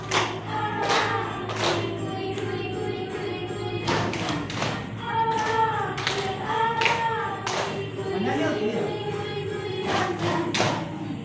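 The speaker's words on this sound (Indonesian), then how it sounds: "Ya, tepuk tangan dulu." A group in a training session claps hands in irregular loud bursts over about eleven seconds, with voices and room noise under the applause.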